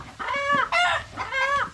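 A Dong Tao dragon feet chicken clucks and calls up close in three loud, harsh bursts with short gaps between them.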